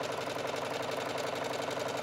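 A sewing machine runs a straight stitch joining two fabric pieces for pojagi patchwork, a steady, continuous mechanical hum throughout with no talking.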